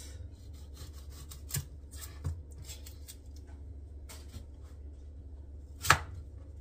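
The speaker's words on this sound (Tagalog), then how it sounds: "Hiwa-hiwain na natin ngayon ito. Yung ating sibuyas." An onion is chopped on a board in a home kitchen, making faint, scattered knife cuts. A few sharper knocks stand out against a low background hum.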